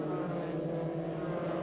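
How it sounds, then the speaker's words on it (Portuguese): Touring car engines in a 2002 DTM Turismo round at Interlagos, São Paulo, holding a loud, steady, close droning roar without a break as the field waits for the race restart. "motor falando alto para a relargada."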